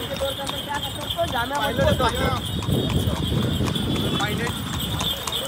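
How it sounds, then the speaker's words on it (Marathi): Steady clip-clop of a horse's hooves pulling a cart in Hampi, Karnataka, rhythmic and close, with people talking over it throughout. "घोडा गाडीमध्ये बसलो आणि चाललो"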